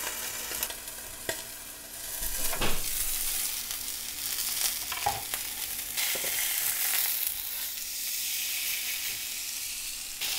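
Teriyaki beef sizzles under a makeshift cover on a griddle over medium heat, a soft steady frying hiss broken by occasional scrapes and clatter, with no voices.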